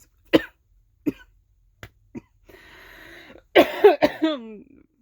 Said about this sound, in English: coughing is a thing, and stuffy nose